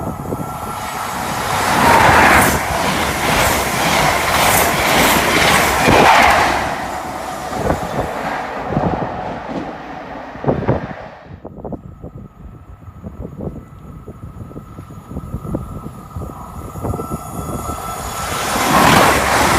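A New Zealand Railways locomotive passes close by, a loud broad rumble with engine roar and rhythmic clatter that fades around the middle, leaving quieter knocks and track noise before the sound swells again at the end.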